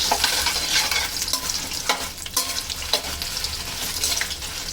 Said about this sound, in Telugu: ఇలా ఎండుమిర్చి వేయించి తీసుకున్నాం